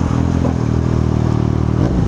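A Yamaha MT motorcycle being ridden, its engine droning loud and steady at a constant pitch, with a slight shift in tone near the end and no voices.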